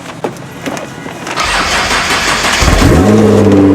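A Lamborghini engine catches after a few soft clicks, then roars into a loud, close idle and climbs into a rising rev, strong and steady to the end.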